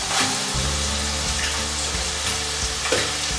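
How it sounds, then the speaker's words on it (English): Eggs being broken into beef in a hot pot, heard as a steady, loud sizzle and frying hiss with faint stirring and scraping nearby. "We're going to start breaking eggs"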